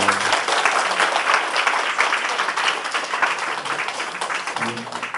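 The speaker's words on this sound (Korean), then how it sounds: "우리 하나님께 영광의 박수 한번 올려." A church congregation applauds steadily and loudly for several seconds, a dense wash of clapping with faint voices near the start and end.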